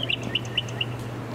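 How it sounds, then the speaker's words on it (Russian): Small birds chirp in an evening park, with short bright tweets repeating at a quick, uneven pace over a low steady hum. "птички все время чирикают"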